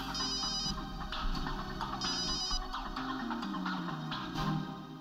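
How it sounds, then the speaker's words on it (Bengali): A phone rings in a TV crime drama scene, repeated electronic ringtone phrases sounding over background music without speech. "বম্বারের ফোন?"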